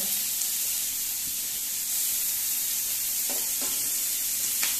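Onion fries in hot oil in a pan with spices, a steady loud sizzle and hiss running the whole time, broken by a few soft scrapes of stirring near the end, with no talking.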